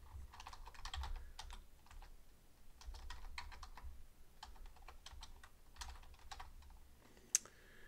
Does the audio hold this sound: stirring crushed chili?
no